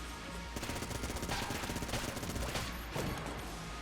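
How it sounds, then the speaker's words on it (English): Rapid bursts of Vulcan cannon fire in the video game Enter the Gungeon, a steady stream of chattering shots with a few sharper bangs, loud and continuous throughout. "I want to just shoot the Vulcan cannon"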